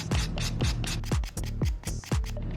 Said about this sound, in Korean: 강한 사포로 먼저 단면을 정리를 해줄 겁니다.